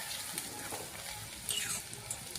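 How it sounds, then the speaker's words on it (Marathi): Onion-garlic masala with bedgi chilli sautéing in a pan for whole masoor curry, making a quiet, steady sizzle broken by a few light stirring scrapes and clinks. "मसाला छान परतून घ्यायचा आहे।"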